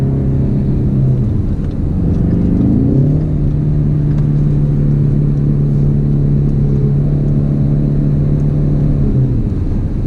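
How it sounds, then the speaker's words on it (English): Premium Ford Mustang EcoBoost engine in sport mode revving up, holding a steady wound-up drone, then dropping back, a loud continuous tone heard from close inside the car without talking. "Right now I have it in sport mode, that's why it sounds like it's all wound up and ready to go."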